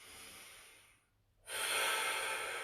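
A slow breath drawn in during a shoulder stretch in a static stretching routine. The soft breathy exhale fades to near silence, then a strong, close inhale rushes in.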